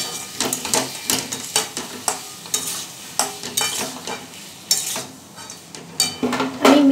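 Pointed gourd, potato and prawns fry over medium flame in a pan, stirred with a spatula in a steady run of scraping clacks over a soft sizzle, close and fairly loud.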